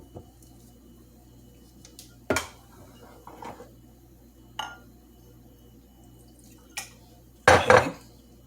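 Utensil stirring fresh homemade juice in a glass, giving a few sharp clinks and scrapes spread through a quiet stretch, with a louder cluster of knocks near the end.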